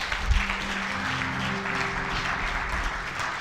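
A church congregation applauding and cheering, a steady wash of clapping that holds evenly for a few seconds, loud and close, with sustained tonal sounds underneath.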